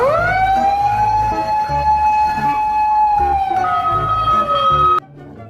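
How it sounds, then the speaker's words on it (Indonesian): A loud electronic siren from a toy fire truck wails on a steady rising tone, close up, with rumbling and clattering underneath, then cuts off abruptly. "Ini mobil pemadam kebakaran."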